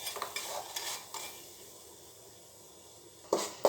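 Jaggery melting in a pan for sweet urad dal laddus, with a few soft scraping stirs and a faint sizzle, then two sharper clinks of the spoon against the pan near the end.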